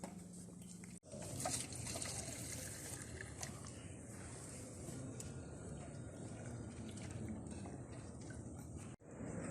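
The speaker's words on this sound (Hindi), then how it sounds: "तो ये हैं जनाब समसम के कूलर, पानी भरा हुआ है बहुत ही ठंडा।" Cold water runs steadily from a Zamzam water cooler at Masjid an-Nabawi in Madinah, a continuous close splashing trickle that stops briefly near the start and again near the end.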